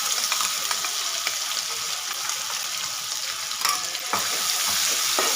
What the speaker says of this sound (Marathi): तेल सुटेपर्यंत आपल्याला ती मिडियम गॅसवरती परतून घ्यायची आहे